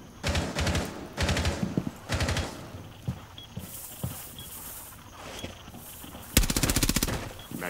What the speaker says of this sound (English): They're still shooting from trophy room window.